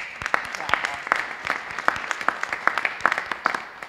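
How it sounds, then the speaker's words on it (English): A church congregation claps for a youth choir with sparse, spaced hand claps in a loose rhythm, moderately near and fairly quiet, with no voices over it. "Let's give them another applause."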